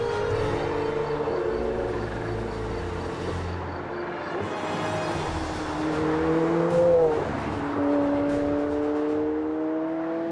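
Engine of a road-legal race car, a 700 hp supercar, drones steadily at close range, with the pitch sliding and rising through the middle as it revs and shifts, and no talking.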